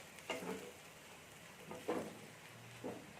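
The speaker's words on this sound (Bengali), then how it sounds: "আলুটাকে একটু নেড়ে নিচ্ছি" Potatoes with fresh coriander leaves are stirred in a hot pan, giving a steady low sizzle broken by three scraping strokes near 0.3, 1.9 and 2.9 seconds, close and fairly quiet, with no talking.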